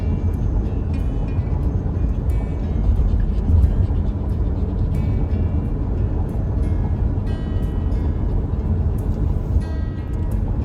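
A car cruises into St. Augustine, Florida on US Highway 1, giving a steady interior rumble of engine and tyre-on-road noise with constant low-frequency drone and faint intermittent clicks.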